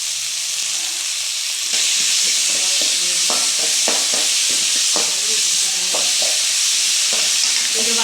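Vegetables sautéing in a pan with rock salt for sambar, a loud steady close sizzle with repeated rhythmic scraping stirs of a spoon against the pan; no talking.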